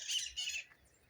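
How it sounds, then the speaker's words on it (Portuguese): Two harsh, close squawking bird calls ring out in quick succession outdoors beside a town vegetable garden with cabbages, followed by faint softer chirps. "Os pássaros voando. Tem pássaro aqui de toda cor."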